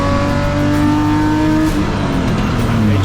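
BMW M-Tech race cars with Performance Parts, Class D, lap Zwartkops circuit, engines roaring loud and close in a steady, sustained drone with rising revs and no talk.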